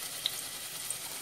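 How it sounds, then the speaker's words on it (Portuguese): Garlic and onion sizzle steadily in a pan as they sauté for a chicken fricassee, a faint, continuous hiss with tiny pops and no talking. "agora vou colocar os ingredientes na panela para refogar o nosso frango"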